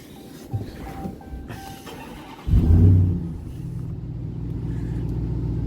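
A Hydro Blue Ram TRX pickup with a 700+ horsepower engine cranks and fires up, a sudden loud low roar that settles into a deep, steady idle rumble close by.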